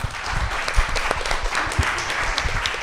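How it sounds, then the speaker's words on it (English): Warm applause from an audience honoring guests at an evening cinema screening and discussion, steady clapping from a moderately sized crowd throughout, fairly close and even. "let's have a warm round of applause for our guests for coming here tonight"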